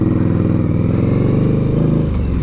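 Indian Scout motorcycle under way: a loud, close, continuous engine drone with a pulsing low rumble, holding steady throughout the short stretch.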